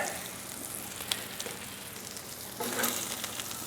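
Bulk sausage sizzles steadily on a Solo Steelfire griddle, a dense close crackle and hiss with small pops, growing slightly louder partway through.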